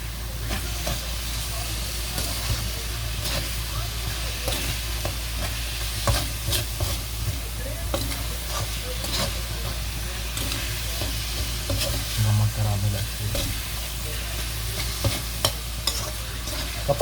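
Shrimp paste frying in oil while being stirred makes a continuous sizzle with scraping and clinking utensil strokes, fairly loud and close throughout with no clear talk.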